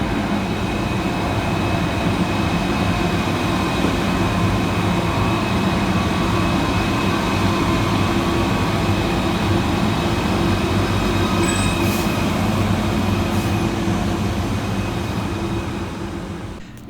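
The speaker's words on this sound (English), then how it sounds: "Whilst arriving to terminate with the Merseyrail electric service off of Liverpool Central is" A Merseyrail class 777 electric train rolls in steadily to terminate, its continuous rumble and rail hum holding at close range throughout, with a brief high squeal near the end.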